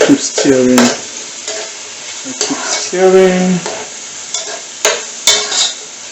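Onions, hot pepper and tomatoes frying in a pan while being stirred, with spatula scrapes and clanks over a sizzle and a voice humming or talking between the strokes.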